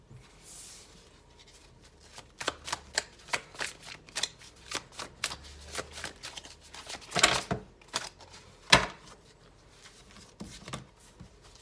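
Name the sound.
tarot cards being shuffled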